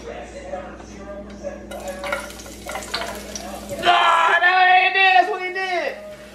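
Garlic dropped into a hot pan for stuffed shells starts a bright, busy sizzle, preceded by clinks and scraping of utensils against cookware, with a person talking over the cooking.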